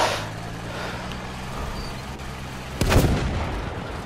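Upgraded tank main gun firing in Battlefield 5, a single deep booming blast near the end over a low rumbling engine hum.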